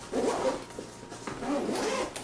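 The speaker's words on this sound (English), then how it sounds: "Unzip that all the way" The main pouch zipper of a Lowepro Tahoe BP150 daypack is pulled open in two close, rasping strokes, heard up close with no other sound.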